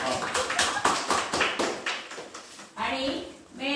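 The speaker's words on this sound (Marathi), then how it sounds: "टाळ्या." A family group on a holiday outing in Mahabaleshwar claps in a quick burst of several hand claps, then pauses before people talk and clap again briefly, close and fairly loud.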